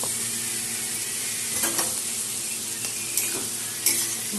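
Taro leaves with turmeric and water are stir-fried in a pan, giving a constant close sizzle broken by several distinct spatula scrapes and knocks against the pan.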